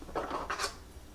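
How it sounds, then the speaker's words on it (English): A utensil clinks and scrapes against the inside of a glass mason jar while ramen noodles are stirred, two quick scraping strokes close up and fairly quiet. "we're just going to stir that."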